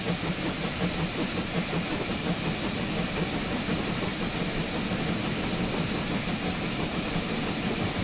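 Steam locomotive safety valve blowing off in a GWR Saint-class Train Simulator game, a loud, unbroken roaring hiss of escaping steam with a low engine rumble beneath, steady throughout and close.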